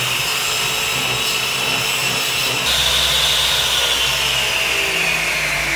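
A power tool cutting a 120 by 80 centimetre MDF panel, a loud, steady whining roar that holds for several seconds, shifts pitch partway through and stops abruptly, with no voices.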